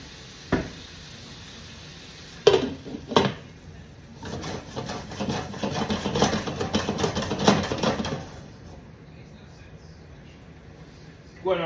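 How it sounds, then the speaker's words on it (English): Chili bean ingredients seasoned with chili powder and pepper sizzle in a pot, a soft crackling hiss rising in the middle and broken by a few clattering knocks, with no talking. "That sizzle you hear is what you want."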